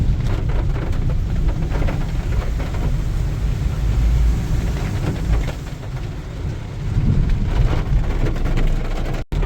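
Continuous heavy rain in a forest, a loud dense rushing hiss with low rumbling underneath, steady throughout with no voices.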